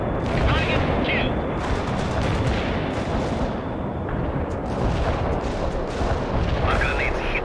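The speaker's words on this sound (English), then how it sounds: "Our grenades hit the provided target area." Grenade explosions and heavy gunfire in the video game World in Conflict form a dense, loud, continuous roar of blasts and shots, while voices talk over the din.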